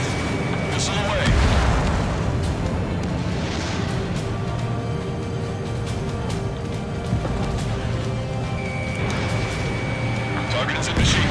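A missile launch and explosions in the aerial combat video game Ace Combat 7 come through as a continuous roar of engine noise and booming blasts, with radio chatter and talk running over it throughout.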